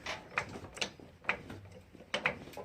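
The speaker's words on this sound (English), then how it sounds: "we're gonna jack the front end of the car up a little bit" A jack raising the front end of a car in a workshop, a series of spaced metallic ratcheting clicks, close and fairly quiet.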